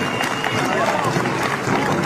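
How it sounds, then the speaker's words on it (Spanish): Rodeo audience at a village fair jaripeo applauding, a dense, steady wash of clapping and crowd noise filling the whole moment without a break. "¡Tenga las palmas!"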